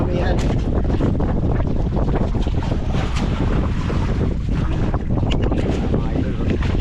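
Strong northeast monsoon wind, the amihan, at sea from a boat, loud constant roaring buffeting against the microphone with rushing water and waves beneath it.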